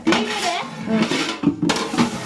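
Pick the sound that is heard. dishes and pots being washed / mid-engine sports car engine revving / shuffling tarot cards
dishes and pots being washed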